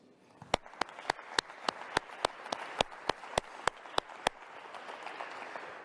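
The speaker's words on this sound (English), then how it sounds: "Please just take a moment and give yourself an incredible round of applause" Sharp, evenly spaced claps ring out in a steady rhythm over a softer bed of scattered audience applause at a quantum internet gathering in Chicago, the loud beats stopping near the end as the crowd noise fades on.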